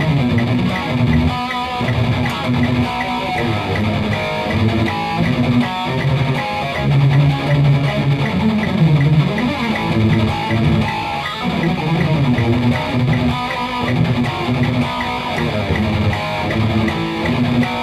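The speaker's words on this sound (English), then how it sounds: "A fierce Euro metal groove." Fierce Euro metal groove of dense, distorted electric guitar chords with drums, the backing for a double picking etude, playing loud and continuous without talk.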